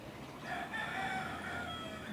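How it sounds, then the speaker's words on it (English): A rooster crows faintly in the distance, its drawn-out call rising over quiet background hum. "you can hear that rooster in the background"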